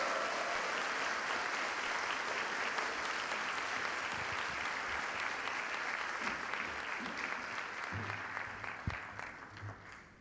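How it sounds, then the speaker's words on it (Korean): Ceremony audience applause at a commemoration of the 10.4 inter-Korean summit declaration, sustained broad clapping from a large crowd that slowly thins out, with faint voices underneath near the end. "여러분 큰 박수로 맞아주시기 바랍니다"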